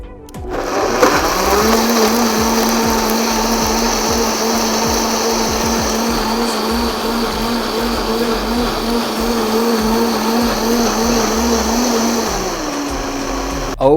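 A blender whirs continuously mixing a piña colada, starting up with a rising whine and holding a loud, steady motor drone for about eleven seconds before winding down.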